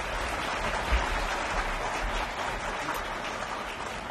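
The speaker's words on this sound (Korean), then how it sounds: "큰 박수로 모시겠습니다." Audience applause at a formal Korean speech event, a steady wash of clapping from a sizeable crowd, moderately distant and even in level for a few seconds.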